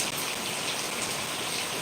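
Heavy rain pours down in a dense, steady hiss of drops on surfaces, loud and unbroken throughout.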